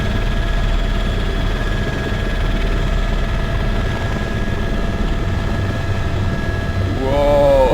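A light aircraft engine in Flight Simulator X drones steadily at close range with the throttle eased back, holding a constant whirring tone before a brief rising whine at the end.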